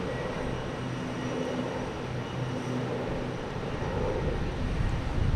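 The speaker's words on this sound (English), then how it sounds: "If United E170 heading to Newark." A United Embraer E170 jet at Boston Logan Airport, heading out to Newark, gives a steady, continuous engine roar and rumble that holds fairly constant and swells slightly toward the end, with no talking.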